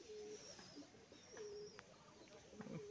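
Pigeon cooing softly a few times while being handled close by, under a low background hiss, with some faint murmuring nearby.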